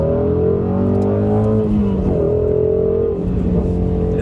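Ford Mustang Shelby GT350 engine heard from inside the cabin on the road, a loud, steady throaty drone with pitch shifts as the revs change, running alone without talk.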